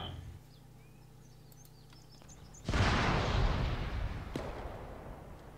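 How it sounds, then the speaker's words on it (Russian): A pile of crates explodes in the military game Arma 3, a sudden loud blast after a quiet stretch with faint birdsong, followed by a rumbling decay and one sharp crack. "Что ты взорвал? Какую-то груду ящиков."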